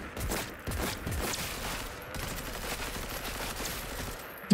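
Gunfire in the video game Cyberpunk 2077, a dense, continuous rattle of shots blending into a steady wash of noise at moderate level, with no talking.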